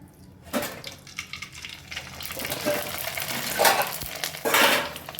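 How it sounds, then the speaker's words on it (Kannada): Rice papad dropped into hot oil gives soft bubbling and sizzling bursts that swell and fade, fairly faint and close, with a louder crackling flare near the end. "ಈಗ ಅದನ್ನು ಕಾದಿರೋ ಎಣ್ಣೆಗೆ ಹಾಕ್ತೀನಿ"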